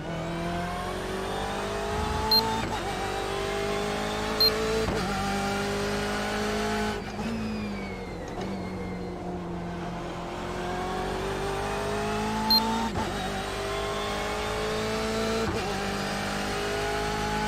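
Indy cars racing in the iRacing sim game, a continuous loud high-pitched engine whine with gear changes and rising and falling revs as cars pass, occasional sharp clicks, with no talk.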